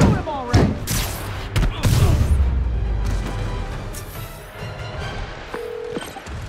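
Gunshots ring out in the Marvel's Silk fight against the Kingpin, a few heavy booming blasts in quick succession near the start, then fading into lower rumble.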